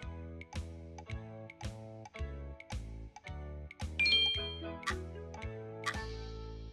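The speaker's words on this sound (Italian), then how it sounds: "Campana." A bell-like chime rings out repeatedly at a regular pace, each strike followed by a short ringing decay, clear and close with tonal overtones, alone without voices.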